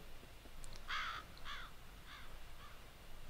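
Crow caws ring out in the F.E.A.R. video game, several harsh, separate calls, the first loudest and the rest fading, over a faint low ambient wind.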